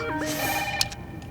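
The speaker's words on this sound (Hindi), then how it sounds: "फोन बज रहा है, सुनाई नहीं दे रहा है तुमको?" An indoor telephone rings with a warbling electronic tone at moderate loudness. A brief click comes near the end of this short burst.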